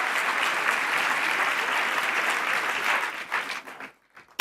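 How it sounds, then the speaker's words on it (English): A crowd applauds at an awards event, the Hult Prize global finals in London, with broad sustained clapping that stays full for about three seconds and then breaks up into scattered claps before stopping. "A round of applause."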